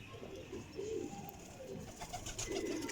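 Pigeons coo in soft, rounded repeated phrases, several overlapping calls from Sialkoti pathiya pathy flying pigeons, close by and steady, with a faint higher chirp or two in the background.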